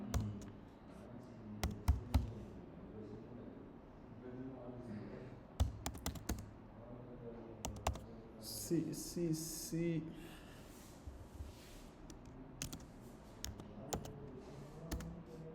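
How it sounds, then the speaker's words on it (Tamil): Typing on a computer keyboard comes as scattered, quick bursts of crisp clicks, close but quiet, while a person speaks softly at times in between. "இது சும்மா டைப் பண்ணுறதான்"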